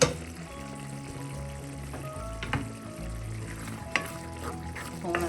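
Mushroom roast cooks in a pan with a soft, continuous sizzle and bubbling, broken by a few stirring scrapes and clinks against the pan.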